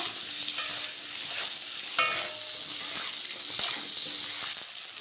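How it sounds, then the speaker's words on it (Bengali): Chopped onions and potatoes fry in a pan, giving a steady close sizzle throughout with a few scraping stirs and no voices. "আলুর সাথে পেঁয়াজ পেঁয়াজগুলিকেও খুব ভালোভাবে ভেজে নেবো"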